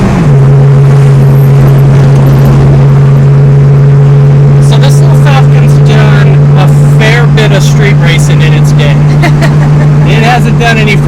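Engine of a 1964 Ford Falcon convertible with a 289 V8 running with a steady, loud low drone throughout, joined by talking in the second half.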